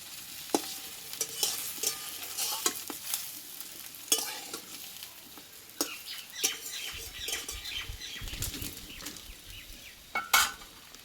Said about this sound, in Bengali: একবারে কিন্তু দু তিনটে করে ভেজে নেওয়া যাবে